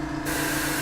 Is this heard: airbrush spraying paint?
yes